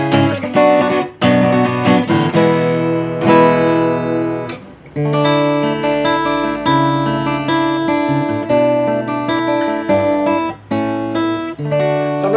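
Chords strummed with the fingers on an acoustic guitar in a new body shape, ringing full and loud in steady sweeps with brief pauses between phrases, with no talking over them.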